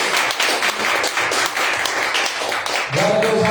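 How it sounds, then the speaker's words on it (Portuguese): A church congregation applauds with dense, sustained clapping that fills the room, ending in a swell of voices and music. "Glória a Deus, aplausos, amados"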